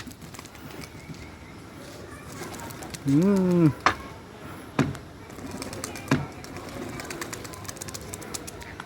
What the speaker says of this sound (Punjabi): ਇਹ ਕਬੂਤਰ ਸਾਰੇ ਬਾਜੀ ਆਏ ਆ ਇਹ ਟ੍ਰੇਨਡ ਕਰਨੇ ਤੇ ਆ